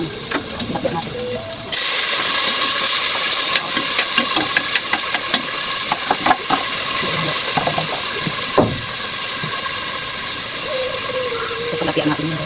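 Garlic sizzles in a hot pan for mung bean stew, a steady bright hiss that jumps louder after a brief quieter start, with scattered spatters and clinks of stirring throughout.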